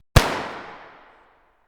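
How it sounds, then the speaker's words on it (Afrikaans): A single gunshot at night, one sharp loud crack with a long echoing tail that fades over about a second, heard alone. "En toe 'n skoot in die nag."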